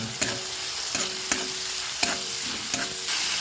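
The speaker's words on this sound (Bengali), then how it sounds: "চিংড়ি মাছটা দিয়ে দেবো, নুন দিয়ে দেবো, হলুদ দিয়ে দেবো, দিয়ে ভালো করে ভেজে নেব" Prawns frying in hot oil with salt and turmeric, a continuous close sizzle punctuated by regular clanking stirs of a spatula against the pan every half second or so, with no one speaking.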